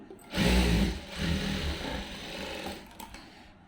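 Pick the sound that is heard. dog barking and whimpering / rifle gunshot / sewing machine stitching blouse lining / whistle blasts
sewing machine stitching blouse lining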